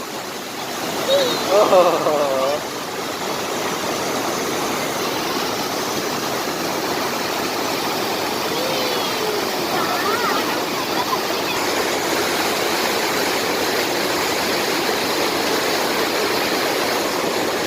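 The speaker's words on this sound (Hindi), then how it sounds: "दूध की तरह बहता हुआ ये खूबसूरत और साफ़ सुथरा पानी" Steady rushing of a clear, milky-white mountain stream flows continuously and fairly close, with a brief louder splash early on and no one talking.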